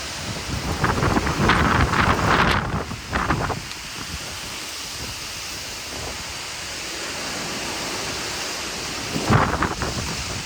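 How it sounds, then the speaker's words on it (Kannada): A heavy rainstorm in America with gusting strong wind: a dense, roaring hiss that surges loudly in bursts, dips to a steady rush, then swells again near the end, with no voices. "ಈಗ ಜೋರಾಗಿ ಬರುತ್ತೆ ಮಳೆ ನೋಡಿ ಹೇಗೆ ಬೀಸ್ತಾ ಇದೆ"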